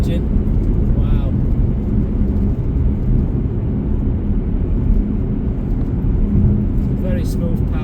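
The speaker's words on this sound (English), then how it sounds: "You can hear the petrol engine." Inside a 2015 Porsche Cayenne 3.0 V6 E-Hybrid S with Tiptronic S and four-wheel drive, the petrol engine rumbles steadily with road noise while accelerating toward 70 mph, someone talking over it.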